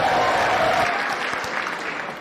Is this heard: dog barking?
no